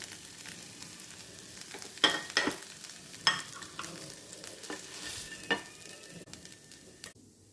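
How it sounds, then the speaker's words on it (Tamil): Masala-coated fish fries in a pan with a soft, steady sizzle, punctuated by several sharp scrapes and clinks as pieces are turned, fairly quiet and close. "நம்மளோட ஃபிஷ் நல்லா ஃப்ரை ஆகிடுச்சு"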